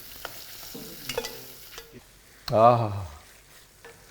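Mixed vegetables drop into hot ghee in a pan and burst into loud sizzling frying midway, after some quiet stirring and a short spoken exclamation.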